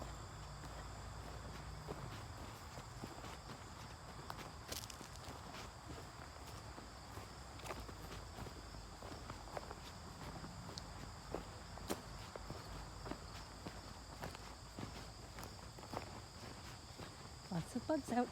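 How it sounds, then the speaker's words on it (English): Outdoors on a rural property near a pumpkin patch, insects chirp and buzz faintly in a steady high drone, with footsteps crunching through vegetation and quiet talk underneath. "Lots of bugs out today."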